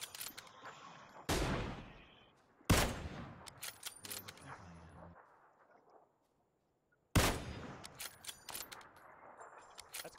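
Gunfire in PUBG cracks out as a few sharp, loud single shots spaced several seconds apart, each trailing into echoing decay, over quiet background.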